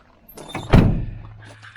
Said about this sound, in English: Just want to make sure I can open my door.